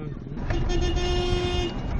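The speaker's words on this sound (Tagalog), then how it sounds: "Ang mga sasakyan sa paligid bumubusina na dahil hindi makausad" Car horns honk from vehicles stalled in highway traffic behind a truck crash, one long sustained blare that sits over a rumbling road din, fairly close and loud.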